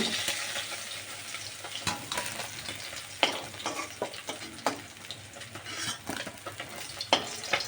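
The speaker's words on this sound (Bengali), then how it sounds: "মাছগুলো আমার মোটামুটি ভাজা হয়ে গেছে" River fish frying in hot oil in a pan, a constant crackling sizzle broken by sharp scrapes and clinks of a utensil turning and lifting the pieces, close and without speech.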